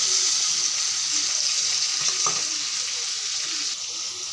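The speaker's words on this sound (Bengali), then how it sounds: "এই তেলে এখন পেঁয়াজগুলো দিয়ে দেব" Onions frying in hot oil left from fried potatoes produce a loud, steady, close sizzle with a couple of brief clinks and scraping stirs.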